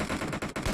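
Rapid automatic gunfire from a PUBG Mobile battle at a ranking event, a few quick bursts of close, loud shots with short gaps between them and no talking.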